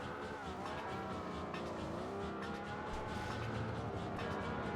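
Engine roar of a car driving in the video game Midnight Club II, a continuous revving drone with pitch sweeps rising and falling as it shifts, plus faint skidding, with no speech.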